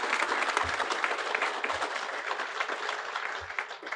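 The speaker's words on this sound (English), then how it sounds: "give a round of applause for our distinguished guest." Audience applause at a groundbreaking ceremony for the Douglas County Justice Center, a dense, steady wash of many hands clapping for distinguished guests, continuous and fairly loud throughout with no talk over it.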